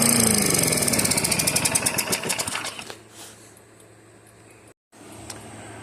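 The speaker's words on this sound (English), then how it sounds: "You can tell the engine is a healthy engine, but it's not running quite right" A vintage Toro lawn mower engine, healthy but running slightly rough, chugs loudly with a fast pulsing beat, then winds down and cuts out partway through, leaving quiet background.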